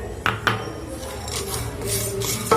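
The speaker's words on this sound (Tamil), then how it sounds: "இப்போ அடுப்பை ஆஃப் பண்ணிவிட்டு பொட்டுக்கல்லையை போட்டு கிளறிடுங்க." Roasted poha and roasted gram are stirred in a pan with the heat switched off, a spoon scraping and rubbing with a couple of sharp metallic knocks against the pan, close by and without talk.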